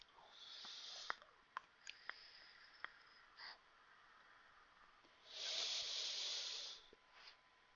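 A bog-standard vape mod fitted with a Nautilus tank gives a soft airy hiss while the airflow is being checked, faint at first, then one longer, louder draw of about a second and a half, with a few small clicks around it.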